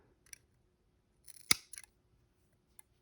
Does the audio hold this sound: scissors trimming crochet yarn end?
yes